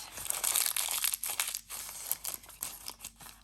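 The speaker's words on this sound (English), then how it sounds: "Crumple it up a bit." A protective sheet used to cover a craft work surface is crumpled by hand, giving a dense, continuous crinkling and crunching with uneven bursts, close and fairly loud, with no voices.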